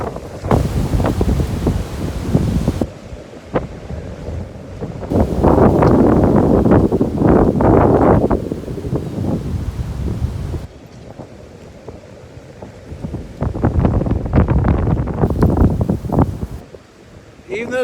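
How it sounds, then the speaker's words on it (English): Strong gusting wind on an exposed mountain summit buffets the microphone in loud, roaring waves that rise and fall, with a brief lull midway, while a person's voice comes through in places under the rush. "It's just blowing wind like we're on the ocean or something"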